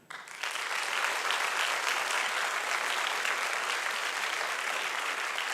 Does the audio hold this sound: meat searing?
no